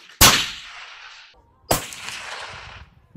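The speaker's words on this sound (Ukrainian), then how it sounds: "Зараз наш конструктор і дизайнер Олександр зробить декілька пострілів з цього тепловізійного приціла" Two loud .308-caliber rifle shots about a second and a half apart, each a sharp crack followed by a long rolling echo across open ground.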